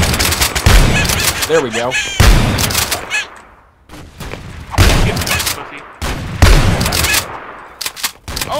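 Shotgun blasts in the video game Apewar, several loud booming shots in irregular bursts with short gaps between them, mixed with a brief spoken remark and other game sounds.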